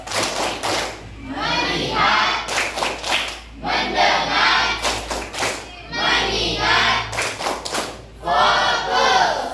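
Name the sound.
class rhythmic clapping chant, tepuk fokus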